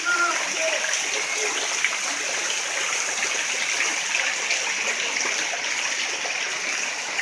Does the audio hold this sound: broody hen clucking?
no